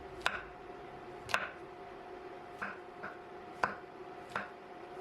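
A knife slices white mushroom and garlic cloves on a cutting board, about six crisp, separate cuts at an uneven pace, close but quiet, with no talk.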